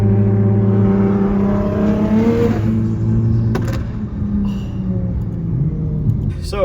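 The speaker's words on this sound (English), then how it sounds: "Car sounds so incredibly good." A drift car engine revs hard and close, its pitch climbing and dropping in a steady, loud growl.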